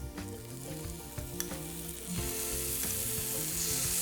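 Chicken frying in a pan, browning and almost cooked through: a continuous crackling sizzle that grows louder and denser about halfway through, with faint stirring and kitchen clatter.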